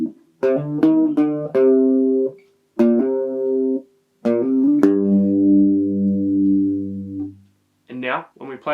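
An acoustic guitar plays the chorus riff of a song, with plucked single notes and hammer-ons ringing out clearly, pauses between phrases, a held note near the end, and a voice starting at the close.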